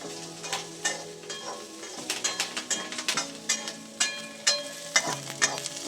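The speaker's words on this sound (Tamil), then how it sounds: "வெங்காயம் கொஞ்சம் இதில் நல்லா வதங்கட்டும்" Onions sauté in a pan for drumstick kurma, a close sizzle broken by quick sharp stirring and scraping knocks, with a faint birdlike coo in the background and no speech.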